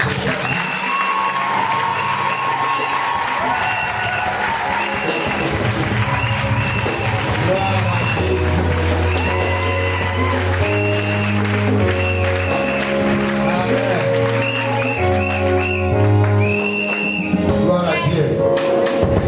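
A church congregation at a Sunday service applauds and cheers, a steady wash of clapping that runs throughout, layered over ongoing music with voices mixed in.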